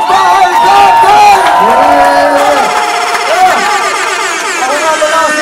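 A loud crowd at a rap battle in a packed venue roars and shouts continuously, with whoops and cheering swelling and sustained throughout at high volume.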